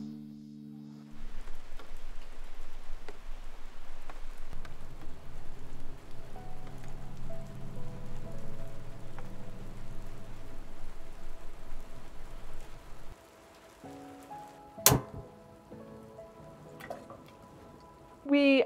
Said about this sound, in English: We actually got a lot of rain here at the treehouse